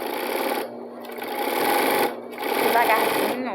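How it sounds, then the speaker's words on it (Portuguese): An overlock serger stitching slowly over a seam on a simple straight skirt, trimming the fabric edge as it finishes it; the motor whirs in close, loud bursts with brief pauses while someone talks over it. "eu vou passando aqui, ó, o guia por cima da costura, porque lá atrás a overlock ela já vai cortar o tecido"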